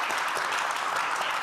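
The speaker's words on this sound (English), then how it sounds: "Let's give Minister Champagne a round of applause." An audience gives the Canadian finance minister a round of applause at a Budget 2025 armchair conversation: brief, steady, fairly distant clapping from a crowd.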